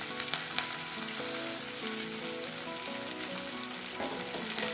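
Curry leaves and green chillies sauté in oil for coconut rice, a steady close sizzle and crackle with a few clinks of stirring over some faint background music.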